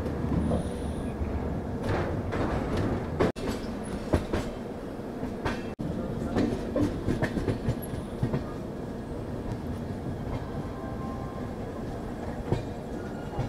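The Sealdah–Jalpaiguri Road Humsafar Express runs through Dum Dum Junction, a steady loud rumble from inside the train with rhythmic clatter of wheels over rail joints and occasional sharp knocks.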